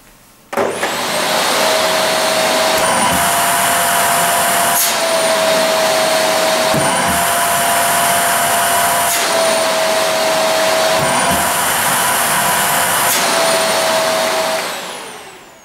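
A vacuum cleaner motor starts up and whirs loudly and steadily, its pitch dipping briefly several times as if the nozzle is blocked and released, then winds down.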